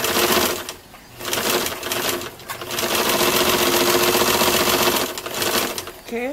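A sewing machine stitches jumpsuit fabric with the right sides of the pieces together, for a peplum top. Fast, steady whirring runs in several bursts, with short pauses between them.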